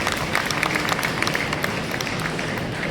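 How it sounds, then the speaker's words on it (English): Audience applause for Chef Damodaran at a culinary competition launch event, a dense steady patter of clapping across the whole stretch with faint murmuring underneath. "I think we should give a big round of applause."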